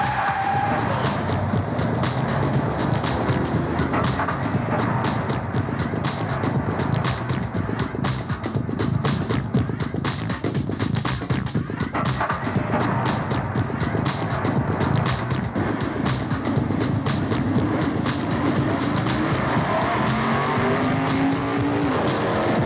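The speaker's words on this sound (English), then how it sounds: "I sampled a lot of local boy racers' exhaust systems to create the soundtrack." Loud modified exhaust systems from local boy-racer cars, sampled into a soundtrack: a dense, continuous engine roar with revving and tyre squeal textures running the whole stretch without pause.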